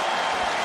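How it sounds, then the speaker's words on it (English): Stadium crowd at a Premiership rugby match between Northampton and Bristol applauding player Alex Mitchell, a broad, steady wash of clapping and crowd noise from the stands. "Listen to the applause for Alex Mitchell"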